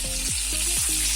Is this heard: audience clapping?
no